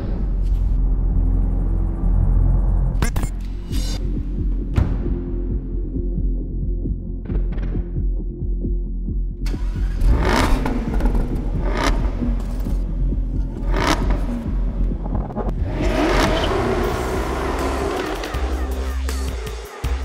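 Jaguar F-Type Coupé sports car engine growling and throbbing, a loud continuous low rumble with several sharp revving bursts in the second half, no talking.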